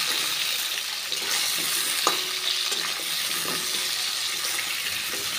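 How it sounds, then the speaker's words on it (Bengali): Potatoes stirred into fried onions in a pan, a steady hiss of frying with an occasional soft scrape or clink of the spoon, no talk. "আলুটা দিয়েও কিছুক্ষণ নাড়াচাড়া করে নেব।"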